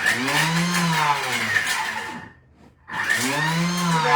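A Thermomix whirs loudly on turbo chopping crab sticks, two short high-pitched motor bursts separated by a brief pause, close and with no talk.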